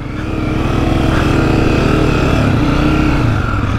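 A new Honda CRF250F dirt bike churns through deep sugar sand on a trail, its engine droning loud and steady up close with a continuous buzzing rasp and no letup.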